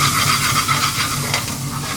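Onions frying in a pan for a vegan bhuna curry in a busy Indian restaurant kitchen, giving a steady dense sizzle with stirring scrapes throughout, loud and close with no talk.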